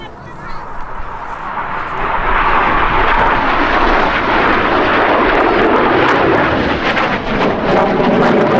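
Red Arrows jet aircraft flying in formation past an air display crowd at the Midlands Air Festival, a loud, sustained broadband engine roar that swells in the first two seconds and then holds steady and close.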